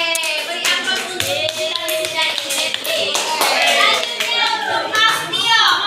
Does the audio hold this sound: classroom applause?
yes